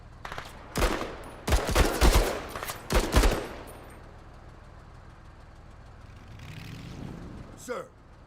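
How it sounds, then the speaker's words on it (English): Heavy gunfire in the video game MENACE, with loud bursts of automatic fire in rapid clusters during the first few seconds, then a low rumbling lull and a faint sweep near the end. "Still under heavy fire!"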